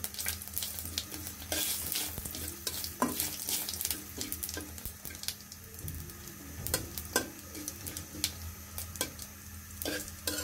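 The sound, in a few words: stirring panch phoron spices frying in a pan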